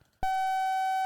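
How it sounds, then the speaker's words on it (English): Short fragment of a sine wave looped in Sound Forge 12, giving a steady, loud, buzzy electronic tone with sharp edges. It starts abruptly after a brief quiet moment and holds unbroken, like an alarm beep. "this was a sine wave which we have been creating"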